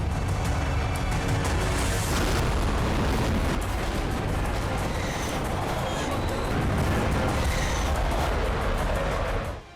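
A continuous heavy roar and rumble of a large explosion demolishing buildings in Afghanistan, with crackling debris noise sustained throughout before cutting off.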